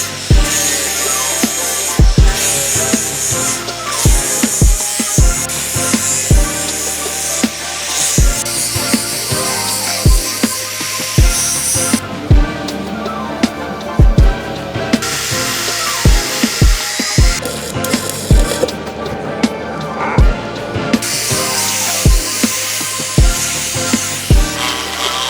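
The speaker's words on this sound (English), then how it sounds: "So next bit's a bit of sanding." A power sander works over a cast iron weld, its steady abrasive whir running throughout and broken by repeated sharp knocks and bursts of grinding as the tool shifts on the metal.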